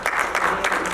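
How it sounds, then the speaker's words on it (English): A brief burst of audience applause at a talk, a short crowd of clapping hands lasting about one second with a few sharper claps standing out. "give them a round of applause"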